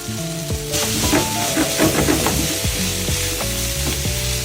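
White onion frying in a pan for kimchi fried rice, a loud continuous sizzle with stirring scrapes over tonal background music.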